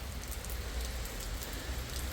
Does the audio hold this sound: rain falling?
yes